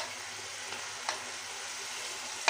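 Garlic and ginger paste frying in a pan, a steady soft sizzle with a few faint stirring clicks.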